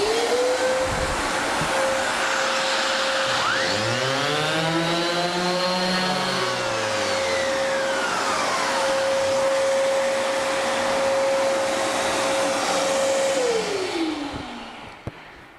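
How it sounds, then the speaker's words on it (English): A power sander works the veneered edge of a wooden table leaf, a loud, steady motorised whine running unbroken for about thirteen seconds before winding down near the end. "We are going to begin by lightly sanding the edge of the table leaf"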